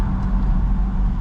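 A single-turbo Nissan G35 cruises with a steady, close engine drone and broad road rumble, windows down on a cold, windy day, with no break in the continuous noise.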